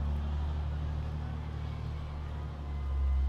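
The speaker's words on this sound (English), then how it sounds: "You can probably hear that truck go by" A truck driving by outside gives a steady, faint low rumble in the distance, swelling slightly near the end, with no voices.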